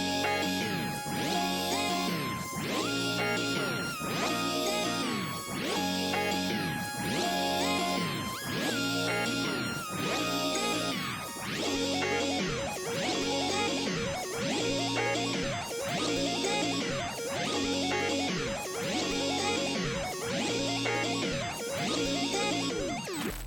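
Synth melody washed in Valhalla Vintage Verb reverb, repeating the same pulsing pattern of bright, shimmering notes in a steady loop, moderately loud and continuous, with a long reverb tail blurring each phrase.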